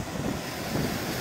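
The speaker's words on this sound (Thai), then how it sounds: "มันจะเป็นแมชชีนแล้วทำให้น้ำเป็นคลื่นใหญ่ๆ" Big machine-made waves at an artificial surf pool in Melbourne, a close, loud, steady rushing wash of water mixed with wind buffeting the microphone, with no voices.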